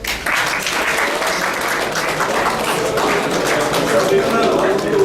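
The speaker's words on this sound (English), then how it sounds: "Give her a big clap." An audience at a pyramid meditation talk claps for a participant, a steady round of applause with distinct individual claps, while a voice talks faintly over it.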